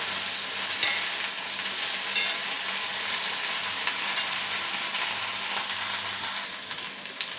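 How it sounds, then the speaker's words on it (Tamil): Sliced okra sautés in a pan, a steady hiss of frying with occasional stirring scrapes, close and continuous throughout with no voices. "நல்லா வதக்கி எடுத்துக்கணும்."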